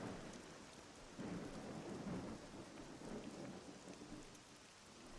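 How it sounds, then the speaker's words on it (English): Steady rain with low rumbling thunder in the Dragon Quest VII Reimagined video game, a continuous soft downpour with a deeper roll swelling near the middle, no voices. "The rain, the gray rain, it's fallen again!"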